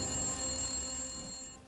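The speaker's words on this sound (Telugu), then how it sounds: "ఫోన్ మళ్ళీ మోగుతుంది చూడు." A telephone bell rings steadily for nearly two seconds in an indoor scene, a continuous electronic trill heard alone and clear, with no voices over it.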